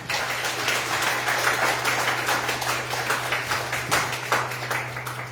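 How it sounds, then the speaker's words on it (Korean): Party members clap at a Democratic Party core-member meeting in Jeju as a candidate for the supreme council is welcomed. Steady, dense applause runs the whole time at moderate level over a constant low hum, with no talk. "단독 최고의 후보 황민선 후보님을 큰 박수로 맞이해 주십시오"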